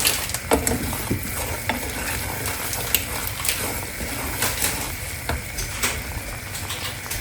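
Semolina roasting in a pan for suji halwa, stirred steadily with a spoon, giving a continuous dry scraping rustle with a low sizzle and occasional sharper clicks of the spoon against the pan, close and fairly loud, without talk.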